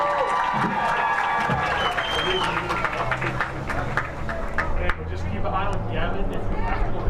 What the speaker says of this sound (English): Please give a loud Panther round of applause.